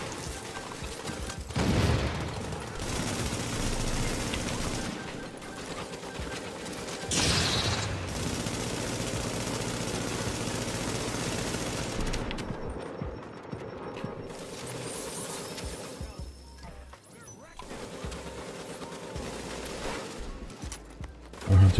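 Rapid bursts of video game gunfire from a shooter set in an apartment level, a loud sustained volley near the start, then steady clattering shots and mechanical noise with a few pauses.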